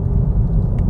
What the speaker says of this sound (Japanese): あの吸い込んでる音がやっぱり大きいですね。